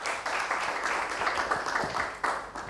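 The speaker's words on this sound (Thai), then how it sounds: "ขอเสียงปรบมือให้ด้วยนะครับ" A short burst of audience applause at a seminar on clean technology for SME businesses, scattered clapping from a modest crowd that carries on steadily through the moment.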